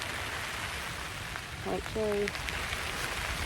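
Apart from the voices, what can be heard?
rain falling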